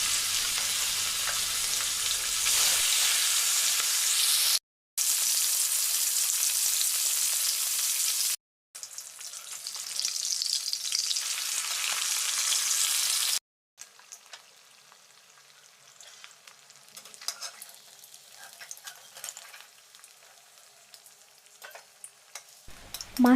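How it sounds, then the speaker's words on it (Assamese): Fish fries in hot mustard oil in a wok, giving a loud, close, hissing sizzle in three bursts split by short silences, then a quieter, uneven crackle with faint stirring. "মাছখিনি ভালদৰে ফ্ৰাই হোৱাৰ পিছত এতিয়া মই নমাই লৈছোঁ।"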